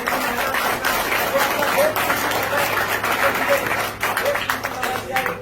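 Applause at a meeting welcomes a national official: a dense, continuous wash of clapping from an audience, steady and fairly loud, with a voice carrying over it.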